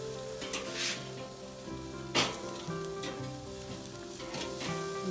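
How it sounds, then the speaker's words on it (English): Tomahawk pork chops sear in a hot pan with fatty edges, giving a steady loud sizzle and crackle throughout, with a brief sharper hiss as a chop is flipped over partway through. "we're just going to flip them over so they sear on the other side"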